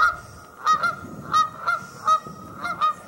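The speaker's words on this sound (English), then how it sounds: "you can hear the geese now" Geese honk repeatedly, about six loud calls at a fairly regular pace, fairly close, with quiet outdoor background between them.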